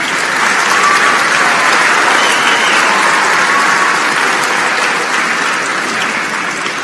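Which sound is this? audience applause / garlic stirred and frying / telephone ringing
audience applause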